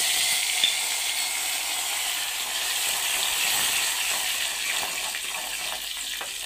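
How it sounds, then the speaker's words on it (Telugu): Sliced onions and kasuri methi fry in hot oil, giving a steady, dense sizzle close up that holds evenly throughout with light stirring ticks and no voices. "కొద్దిగా ఆనియన్స్ని గోల్డెన్ బ్రౌన్లోకి వచ్చే వరకు వేయించుకుందామండి"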